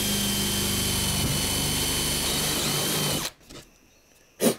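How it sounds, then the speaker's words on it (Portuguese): A spade bit bores through wood for a rustic lamp, driven by a cordless drill-driver, a loud steady whine for three seconds that cuts off abruptly, followed by a couple of short handling knocks. "fiz um pré-furo aqui, agora eu vou furar com a broca chata"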